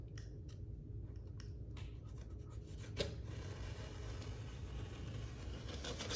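A blade slices through overlapped wallpaper in soft, quick scratchy strokes during a double cut above a corner of an embrasure, faint against a steady low background rumble.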